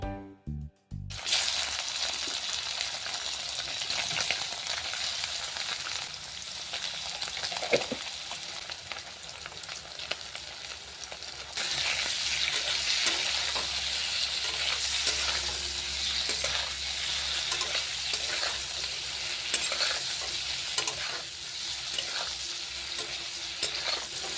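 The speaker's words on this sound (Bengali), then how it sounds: "এদিকে পনিরটাও ভেজে নেব একটু নুন আর হলুদ দিয়ে" Steady sizzling of paneer with salt and turmeric frying in a hot pan until reddish, with occasional stirring scrapes, close up and continuous for a long stretch.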